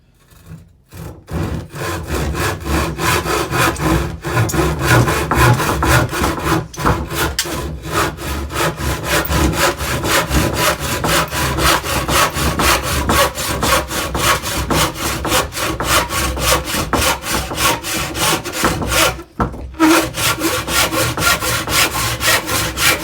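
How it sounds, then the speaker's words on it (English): An American handsaw cuts reclaimed wood on the push stroke, giving a loud, steady run of rhythmic rasping strokes with no talk, and a short pause near the end before sawing resumes. "If you're using an American saw, it cuts on the push."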